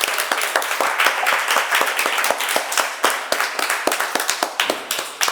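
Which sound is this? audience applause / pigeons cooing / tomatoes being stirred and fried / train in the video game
audience applause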